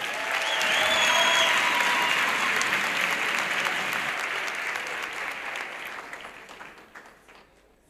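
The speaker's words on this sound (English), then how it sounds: "Can we please give her a round of applause?" An audience at a youth empowerment week event in the Vaal bursts into a sustained round of applause, loud and dense at first, then gradually thinning and fading toward the end.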